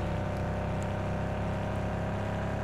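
A 115-horsepower car engine idling steadily in Car For Sale Simulator, a continuous low droning hum with a faint whir, held at an even level for a few seconds with no talking.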